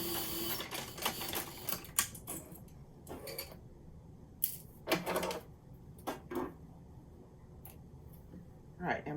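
Sewing machine backstitching a seam and then sewing forward, short mechanical whirring bursts separated by pauses, close by, with a voice talking between them.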